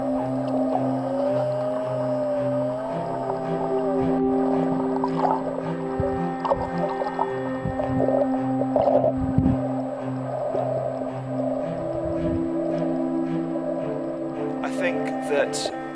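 Pilot whales heard underwater while snorkelling, with whistles and tonal calls rising and falling over a steady low hum and bubbly water noise, and a burst of high clicks near the end.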